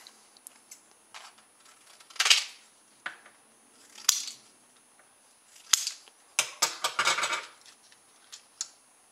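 Scissors snip through a fresh piece of material for a button cell versus supercapacitor test, giving a handful of sharp, separate cuts close by with a quicker cluster near the end.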